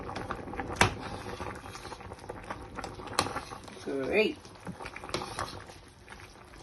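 Steady bubbling and popping of vegetable soup boiling in a pot, with occasional clinks, while a person speaks briefly nearby.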